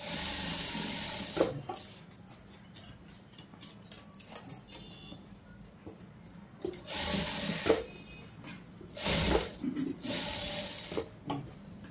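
A sewing machine stitching a blouse seam, with short bursts of rapid mechanical whirring that stop and start again between quieter pauses filled with faint handling clicks.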